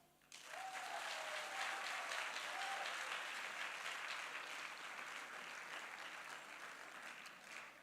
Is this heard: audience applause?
yes